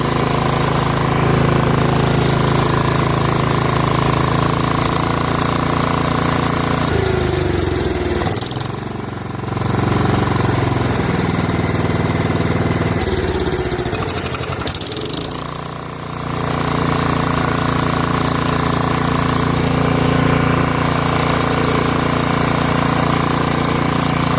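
A Snapper rear-engine riding mower, free after sitting unused for eight years, runs loudly and close with a steady rough drone, dipping briefly twice as the engine bogs before settling back.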